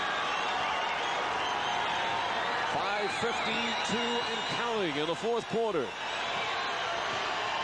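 Basketball arena crowd in a Knicks at Nuggets game in Denver, fourth quarter, a steady roar of cheering and noise filling the background under continuous talk from a commentator.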